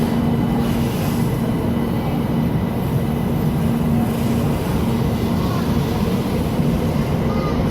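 A Shinkansen bullet train pulls out of a station with a steady, loud rolling rumble and a faint sustained tonal whine that hold evenly throughout.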